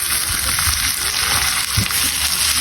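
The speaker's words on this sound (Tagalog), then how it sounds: "Unahin natin gisa ang ating balon-balunan." Chicken gizzards sautéing in a hot pan with ginger, garlic and onion, a loud, close, continuous sizzle with occasional stirring scrapes and no talk.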